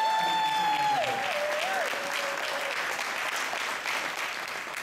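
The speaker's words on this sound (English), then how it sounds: "Give him a round of applause." Sustained audience applause fills an evening motivational talk hall, dense and steady throughout, with a faint tonal whistle or feedback sweep early on and no clear talk over it.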